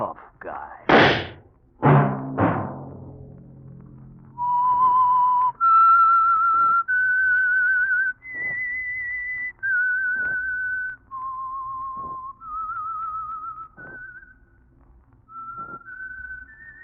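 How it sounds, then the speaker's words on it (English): A lone whistled theme tune for The Whistler radio program, a clear melodic line of sustained notes rising and falling, preceded by a few knocks and thuds at the start. "Let that whistle be your signal for the Signal Oil program, The Whistler"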